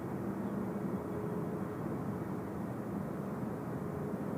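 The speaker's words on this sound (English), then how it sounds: "Delta 189 coming in from Atlanta. 15 hours and 9 minutes of flight time, just a couple of minutes to go. A350 service." Low, steady engine roar of a Delta Airbus A350 arriving from Atlanta at Seoul Incheon Airport, heard from a distance as a continuous broadband rumble without pause.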